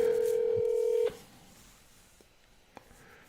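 A telephone dials out as part of a live Convoy Santa broadcast, heard as a loud, steady DTMF tone lasting about a second, then quiet line hiss with a couple of faint clicks.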